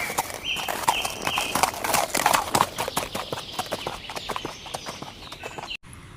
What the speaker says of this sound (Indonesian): Tapi mereka dikagetkan dengan banyaknya suara derap kaki kuda.